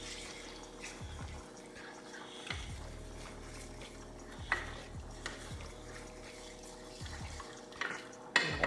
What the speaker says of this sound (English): Let's mix this around.